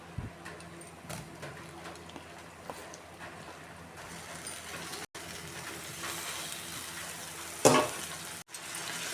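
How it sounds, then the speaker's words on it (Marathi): Bitter gourd frying in spice masala with turmeric, a soft continuous sizzle with occasional stirring clicks and one sharper scrape near the end, quiet and close. "हे मसाल्यामध्ये कारलं परतून घ्यायचं"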